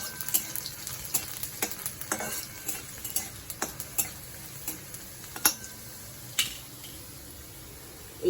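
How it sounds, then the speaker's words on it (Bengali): Cumin seeds and chopped garlic fry in mustard oil, giving a steady low sizzle under sharp, intermittent ticks and taps of a spatula against the pan, close and fairly quiet, with no voices. "একটুখানি ভাজা হতে দেব।"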